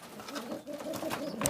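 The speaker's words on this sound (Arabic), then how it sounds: "شايفين الحمام بيعمل ازاي؟" Pigeons coo softly in a loft, a low murmuring layered over steady rustling and faint background noise, with a brighter flutter near the end.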